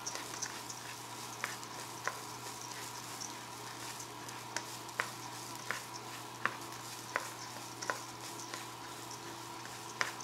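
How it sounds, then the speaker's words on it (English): Rice frying in butter in a pot for Kerala mutton biriyani: a quiet steady sizzle with a low hum underneath and regular soft ticks or taps of a spoon spaced roughly every second. "So it's getting fried in the butter."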